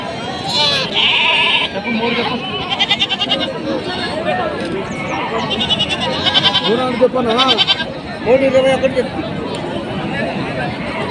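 Several goats bleat repeatedly, fairly close, over a busy background of people chattering and milling about at a sheep and goat market.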